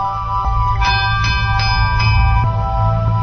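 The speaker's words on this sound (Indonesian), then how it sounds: "Suara lonceng itu menandakan bahwa kita akan memulai piket malam." A bell signalling the start of night watch rings several times in a loose sequence over a low, steady rumbling background, fairly clear and close.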